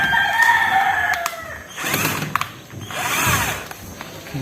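A power drill drives screws while a wall switch is being installed, with two separate whirring bursts of a few seconds each, heard close and fairly loud with no talk over them.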